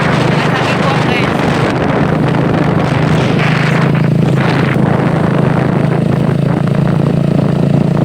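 Strong wind buffets the microphone on an outdoor ride, a loud continuous roaring rumble that fills the whole stretch, with a steady engine drone running beneath it.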